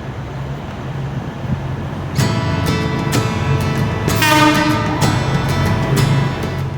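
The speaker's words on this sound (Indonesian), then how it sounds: "Akhirnya kereta apinya datang guys." A high-speed train on the Jakarta–Bandung line pulls into Padalarang station with a loud horn blast and high, sustained tones over a rumbling background, growing louder as it nears.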